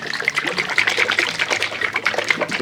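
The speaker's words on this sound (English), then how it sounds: "I'm going to pour in about, I would say maybe 1/3 of a cup or so. Just kind of pour it all over the top." Italian dressing pours from a bottle over a chicken pasta salad in a steady liquid trickle that stays close and fairly quiet throughout.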